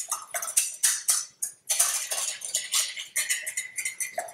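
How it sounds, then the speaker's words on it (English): Chocolate being stirred in a bowl to melt for chocolate creme brulee, a close, quiet run of scraping and light clinking strokes in an uneven rhythm, with no voices. "You just kind of pour it all in there and stir it around, and your chocolate will begin to melt"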